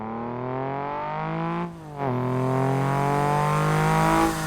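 A Toyota Celica GT4 four-cylinder engine in Assetto Corsa revs hard with a raspy tone, a quick gearshift dip near the two-second mark, then climbs steadily again, loud and close.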